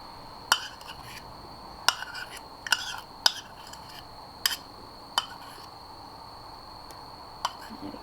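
Spoon or whisk clinking against a bowl while vanilla bean paste is mixed into creamed butter and sugar, about eight sharp metallic taps spaced irregularly over a quiet, steady background hum.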